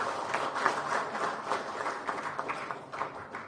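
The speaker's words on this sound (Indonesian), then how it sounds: "Tepuk tangan untuk teman-teman media." Audience applause for members of the media at an Indonesian political party gathering: a steady, dense patter of clapping from a large crowd at moderate loudness, with a few sharper bursts.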